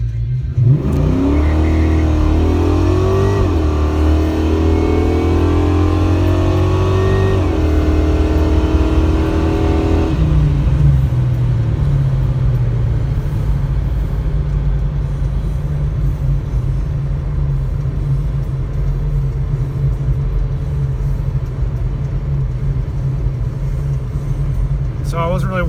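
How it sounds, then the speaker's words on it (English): A car engine is revved hard at full throttle in first gear, roaring loud and close with rising pitch for about ten seconds, then easing into a steady, lower drone as the car keeps moving. "we'll get it back down into first gear, and I'm going to romp on it"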